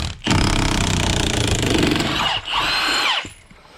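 Makita drill backs screws out of wood in a shed, a loud close whine running steady for two seconds, then a brief pause and a second pitch-sliding burst before stopping.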